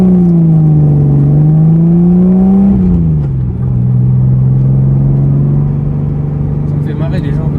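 A Nissan Datsun 280Z with a carburetted six-cylinder engine revs loudly and close up, its pitch rising and falling in sustained sweeps, then holding a steady drone.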